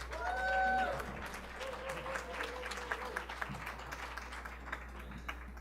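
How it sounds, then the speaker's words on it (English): An audience at a conference panel applauds a speaker, a broad wash of clapping that swells early and then thins out, heard over a steady room hum with a brief tonal sound near the start. "Let's give Noel a round of applause."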